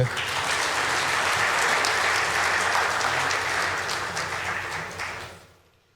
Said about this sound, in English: The chairman, governing board of the Nddc deserves a resounding applause.